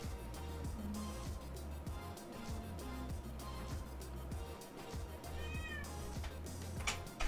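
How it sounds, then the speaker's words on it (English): A cat meows a couple of times near the end, close and clear, over a steady backdrop of low rhythmic music. "Cat says meow."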